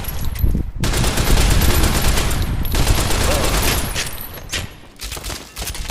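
Sustained automatic gunfire from the Fallout: New Vegas video game, loud continuous bursts of rapid shots filling nearly the whole stretch with a brief pause early on and another near the end.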